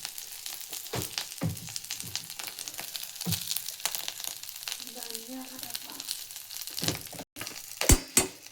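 A handful of coriander seeds roast in a pan for a flaxseed chutney powder, a soft, dry crackling sizzle with intermittent stirring scrapes and a louder clatter near the end.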